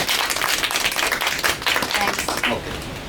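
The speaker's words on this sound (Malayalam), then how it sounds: "അപ്പോൾ ഇവർക്കും വലിയൊരു കയ്യടി കൊടുക്കാം." Audience clapping at a spice powder making training course, a steady burst of many hands applauding close by, fading slightly toward the end.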